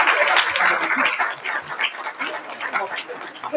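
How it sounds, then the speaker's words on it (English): An audience at a music-technology conference town hall applauds an award-winning paper, with loud clapping at the start thinning into scattered, uneven claps as it tapers. "Let's give it a round of applause."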